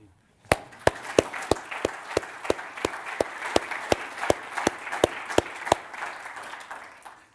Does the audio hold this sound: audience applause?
yes